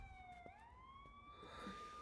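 Ambulance and police car sirens wail from far off in a Hindi romantic thriller film, with rising and falling tones layered together, very faint and with no voices over them.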